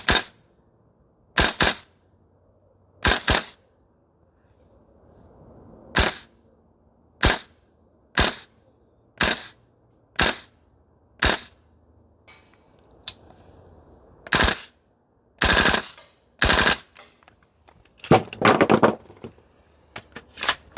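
A VFC URGI gas blowback airsoft rifle fires close by, with single sharp snapping shots spaced about a second apart, followed by quick doubled and burst strings on full auto, each report ringing briefly against a quiet background.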